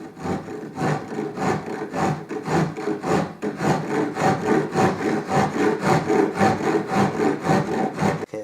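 A spalted wood guitar pick is rubbed back and forth on a coarse abrasive by hand, making a steady, close rasping stroke about twice a second that continues without pause.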